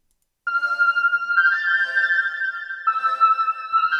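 A sustained synth lead melody from a dancehall beat enters after a brief silence, bright tonal held notes shifting pitch a few times, clean and upfront with no drums.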